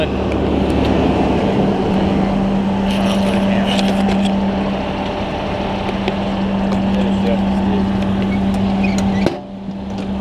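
A Fort Payne fire department Ladder 1 truck's engine idles in a steady, loud, low drone with a constant hum, then cuts off abruptly near the end.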